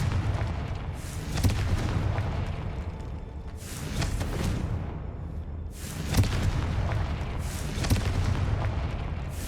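Confringo blasting spell explosions in a Harry Potter video game: four booming blasts with whooshing bursts, spaced a couple of seconds apart over a loud rumbling background.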